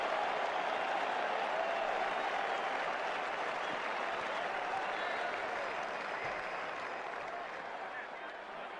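A large cricket crowd at an India versus Australia Test match applauds a shot, a dense, sustained wash of clapping and cheering from a distant stadium that fades slightly toward the end, with commentary faintly underneath.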